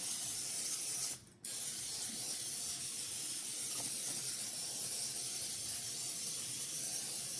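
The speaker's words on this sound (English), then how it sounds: "I'm going to spray down these pans really generously with my cooking" Cooking spray hisses from a can onto bread loaf pans in a long, steady spray. The hiss breaks once briefly and then continues close and even, with no talking.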